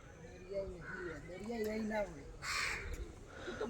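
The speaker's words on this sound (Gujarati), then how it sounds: "આ પક્ષીને તો મિત્રો તમે જોઈ જશે, કાગડો." Crows cawing at a zoo aviary in a nature park, several harsh calls rising over a busy background, with people talking nearby through much of it.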